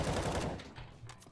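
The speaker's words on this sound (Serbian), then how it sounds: "Evo, evo, to je to pucanje moje" Rapid automatic gunfire in CS:GO, a loud close burst of shots filling the first half second, then fading into quieter scattered reports.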